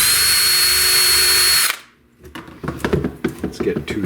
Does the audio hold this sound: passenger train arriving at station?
no